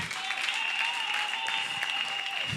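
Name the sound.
audience applause in hall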